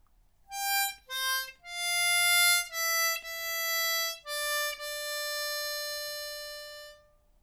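Solo diatonic harmonica repeats a theme's line D (six blow, four blow, five draw, five blow, four draw), held tones with short breaks, close and clear and unaccompanied.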